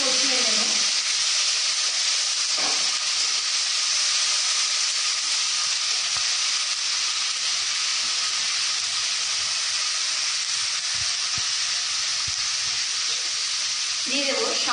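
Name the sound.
spices being sautéed in a pan for vegetable khichuri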